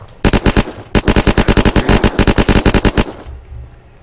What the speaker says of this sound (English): I'm just gonna keep on shooting them as they come up